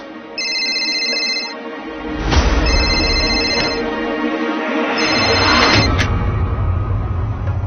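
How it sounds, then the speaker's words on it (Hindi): A telephone rings in repeated electronic trills with a short gap between them, loud and close, over a low rumbling background. "Rehansh, pick up the bloody phone"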